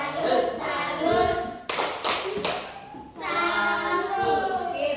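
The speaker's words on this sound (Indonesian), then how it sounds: "Tepuk salut." Schoolchildren in a classroom clap out a quick salute cheer, a few sharp claps rising among chanting young voices, all close and lively.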